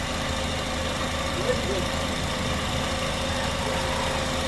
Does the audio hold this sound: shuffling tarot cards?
no